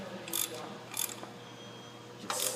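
A ratcheting stud installer tightens cylinder head studs on a Ford Taurus 3.0L 12-valve engine during a head gasket replacement, giving three short clicking ratchet bursts spaced apart against a quiet background.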